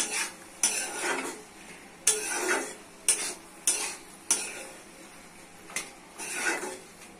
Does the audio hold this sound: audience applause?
no